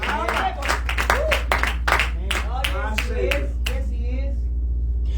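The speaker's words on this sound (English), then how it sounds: "clap your hands if you know" A church congregation claps in a quick, steady rhythm, loud and close, while a preacher speaks over the clapping.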